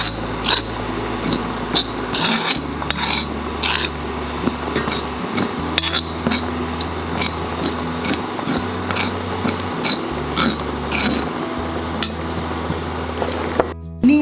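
A spoon stirs a henna powder paste with coffee and other dry powders in a bowl, giving steady clinks and scrapes against the bowl that recur throughout over a low background hum.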